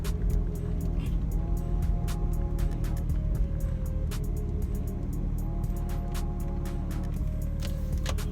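A Lexus IS300 fitted with an upgraded exhaust idles with no throttle, a steady low rumble heard close, with faint clicks and ticks scattered over it and no talking.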